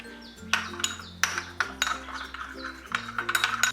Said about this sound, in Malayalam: 1/4 ടീസ്പൂൺ മുളക് പൊടിയും പകുതി നാരങ്ങയുടെ നീരും 1 ടേബിൾ സ്പൂൺ നല്ലെണ്ണയും ചേർത്ത് ഇതൊന്ന് മിക്സ് ചെയ്ത് കൊടുക്കും